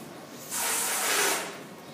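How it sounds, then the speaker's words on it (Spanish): Air hisses out of a balloon as pressure is released slowly, a bright, steady rushing hiss that starts abruptly, holds for about a second and then fades away, with no voices. "Y puedo dejar salir el aire"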